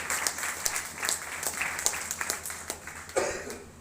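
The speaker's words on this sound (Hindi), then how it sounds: "मैं चाहता हूं उनके लिए एक जोरदार तालियां होना चाहिए" Audience applause for a man being honored at a business gathering: many hands clapping in a moderately loud, steady patter. A brief cough or thump comes near the end.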